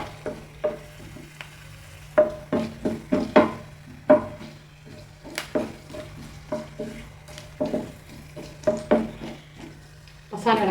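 Crushed ginger, garlic and green chili stirred in a hot pan for egg biryani, with scraping utensil strokes against the pan, clinking and a light sizzle underneath, close and busy throughout.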